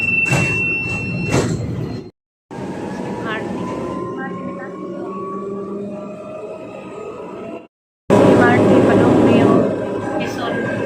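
MRT metro train rumble with a sliding door sequence, steady motor hum and brief silent gaps, passengers chatting nearby over the noise.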